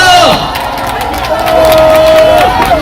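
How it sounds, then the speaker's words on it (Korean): A large outdoor crowd at a Korean political campaign rally cheers and applauds for a party leader, a loud continuous wash of clapping and shouting with voices rising through it, close and unbroken throughout. "열정적인 행사를 주신 이재명 대표께 다시 한번 큰 박수 부탁드립니다"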